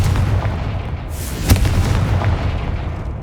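A Confringo blasting spell in the Hogwarts Legacy video game explodes with a single loud booming burst midway, over a rumbling game background.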